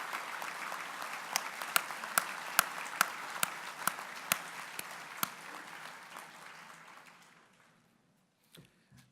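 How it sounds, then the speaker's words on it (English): A chamber of commerce annual dinner audience applauds steadily with a few sharp louder claps standing out, then the clapping fades away to silence near the end. "deserve a great big round of applause"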